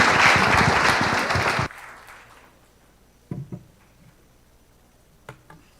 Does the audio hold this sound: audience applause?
yes